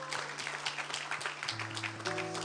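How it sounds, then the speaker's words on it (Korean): Applause from a church congregation during a Korean worship service, a steady wash of many hands clapping close and fairly loud, with sustained organ or keyboard tones beneath. "최고의 영광의 박수 올려드리겠습니다."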